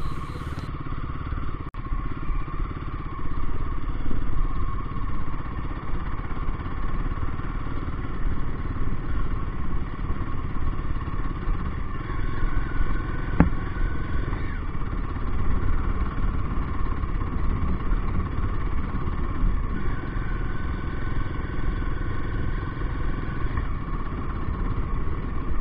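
A Royal Enfield Guerrilla 450 motorcycle, with its high-revving engine, rides along a road. The engine drone is steady and close, with wind and road noise running throughout.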